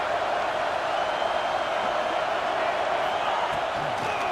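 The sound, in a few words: football stadium crowd cheering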